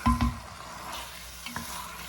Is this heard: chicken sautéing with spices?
yes